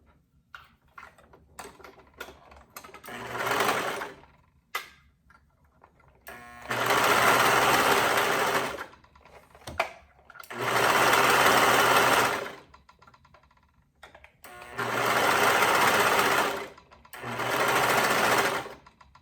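Serger overlocker stitching a hoodie seam, four loud sustained whirring bursts of a few seconds each separated by pauses filled with small clicks and fabric handling.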